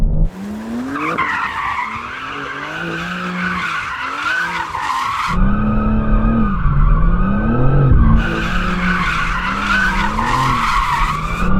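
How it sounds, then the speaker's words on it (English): BMW M4 CS in two-wheel drive mode sliding, with loud sustained tire squeal and skidding over a revving engine, the pitch wavering through repeated slides and growing louder partway through. "The two-wheel drive mode is pretty cool as well, because you can just give it a lot of slidey slide."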